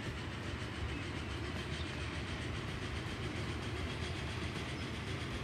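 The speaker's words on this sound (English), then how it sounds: "take a look at the beautiful yellow train" A yellow train runs along the tracks in Transport Fever 2, a continuous rumbling roll with faint clickety-clack, steady and moderately close with no talking.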